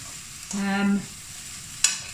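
Softened vegetables frying in a pan for chicken jalfrezi give a low, steady sizzle, with a short humming tone partway through and a sharp tap near the end.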